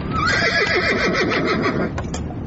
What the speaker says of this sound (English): I told Perkins to put up the horses